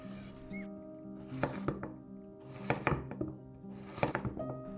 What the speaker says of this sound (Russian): Нарезаем картофель.